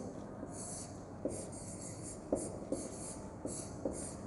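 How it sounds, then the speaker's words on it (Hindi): A pen scratches out a written question on paper close to the mic, faint quick strokes with a few sharp taps, over a quiet background hiss and without talk. "तो यहाँ पर हम प्रश्न लिखेंगे, अप्पू को"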